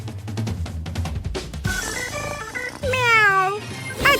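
A cartoon cat meows in a high, sliding, drawn-out cry over busy background music in an animated cooking challenge scene, the meow rising clearly near the end.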